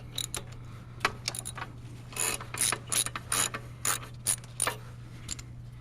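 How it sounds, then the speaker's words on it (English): A ratchet wrench works on a Troy-Bilt engine during an oil change, its pawl clicking in quick bursts of rapid ticks with short pauses, close and fairly quiet over a steady low hum. "Put the ratchet on lefty."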